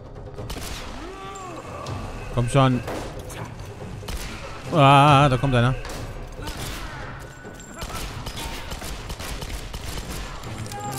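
Magnum gunfire in Tomb Raider booms in a few heavy shots amid explosions and clatter, while someone talks excitedly over the action.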